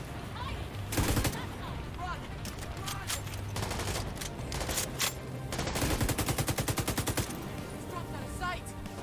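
Bursts of automatic fire from a Pestilence machine gun in a solo PvE shooter game, loud, repeated volleys with a rapid rattling run near the end, over steady game ambience.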